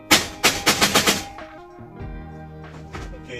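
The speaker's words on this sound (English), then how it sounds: "I'm just using hammer," Hammer striking a screw on an old computer case: a burst of five sharp metallic knocks in quick, slightly uneven succession, close and loud, followed by quieter clinks and handling noise.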